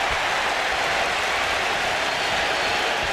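A crowd at a live wrestling event in Sioux City, Iowa applauds in a continuous, dense wash of clapping and cheering that stays steady and loud from start to finish, with no distinct voices standing out.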